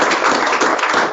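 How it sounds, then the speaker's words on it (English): Applause from an audience at a memoir book launch, a dense steady wash of clapping held for about a second at close range, with no talk over it. "give him a round of applause"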